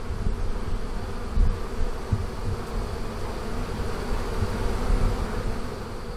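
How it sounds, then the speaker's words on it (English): A dense, continuous buzzing of a large honey bee swarm fills the air, steady and close, with no talking. "There's a few bees hanging out in the air."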